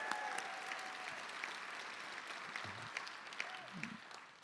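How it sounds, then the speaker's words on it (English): Guests at a benefit luncheon applaud the event sponsors, a soft, fairly distant patter of many hands that gradually thins out, with a few faint voices murmuring beneath it. "So let's give those folks a round of applause."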